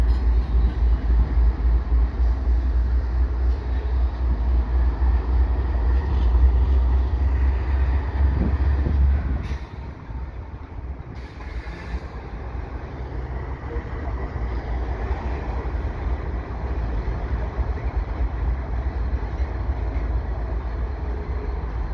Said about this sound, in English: Got a VIA train heading west with the Renaissance equipment